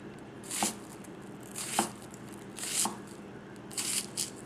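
Goko 240mm gyuto chef's knife slicing through an onion on a board, a quiet, steady series of crisp cuts spaced roughly a second apart, close and alone.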